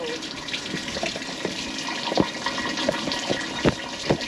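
Waste water pours and splashes out of a micro camper van's overflow outside, a continuous gushing flow with intermittent splattering bursts, moderately close.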